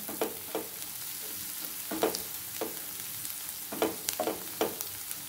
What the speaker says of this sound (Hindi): हळद मातशी तेलार 2 मिनटां परतून घेवया।